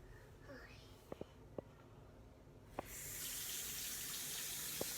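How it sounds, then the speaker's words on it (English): Water starts running from a tap partway through, becoming a steady hiss after a few quiet clicks and soft whispered voices. "turn on the tap"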